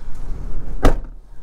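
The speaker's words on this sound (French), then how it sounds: "Et le vent, il arrache les portes." A door bangs once in strong wind on the Newfoundland coast, a single sharp knock standing out from steady wind rumble.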